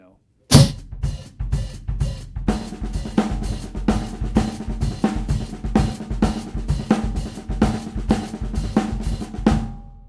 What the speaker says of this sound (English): over the samba with splash close,